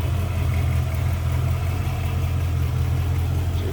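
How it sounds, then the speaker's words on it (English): A 1957 Chevrolet Bel Air V8 engine idles smoothly and steadily with a low, even rumble and no revving. "Nice smooth running engine, sounds good."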